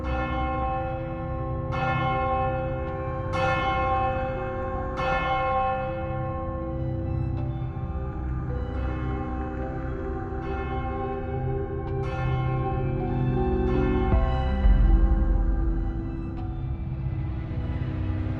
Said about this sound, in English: Distant church bells toll.